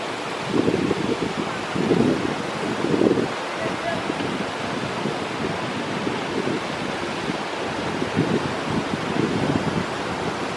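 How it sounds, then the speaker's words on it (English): Small waterfalls splash at a water park, making a steady broadband rush of falling water with periodic swells, joined by wind buffeting the microphone and faint voices. "See the waterfalls, the little waterfalls coming."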